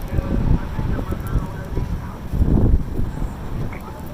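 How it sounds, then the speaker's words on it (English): Strong outdoor wind gusts buffet the microphone in uneven low rumbling surges, loudest around the middle, with no clear speech. "windy as hell out here."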